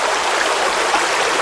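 Monsoon water overflows Salaulim dam in South Goa, a dense, steady rushing torrent heard close and loud with no talk.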